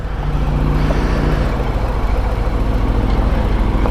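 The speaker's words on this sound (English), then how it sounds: "The exhaust on this bike, I actually like the exhaust." A motorcycle's engine and exhaust while riding, captured on a GoPro as a loud, steady low rumble with wind noise, no voices.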